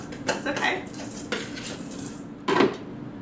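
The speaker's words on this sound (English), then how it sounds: "And then you can stir all the dry together." A utensil scrapes and clinks against a bowl while dry carob cake ingredients are stirred together, giving a few close, uneven strokes and one louder knock near the end.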